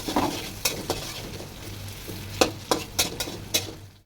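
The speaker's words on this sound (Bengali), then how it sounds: "আমি পেঁয়াজ ভেজে নিব মানে রোস্টের জন্য যা যা মশলা আছে আর কি সবগুলো ভালো করে একটু কষিয়ে নেব" Onions frying in oil for a chicken roast, a steady close sizzle broken by a series of sharp spatula scrapes and knocks against the pan.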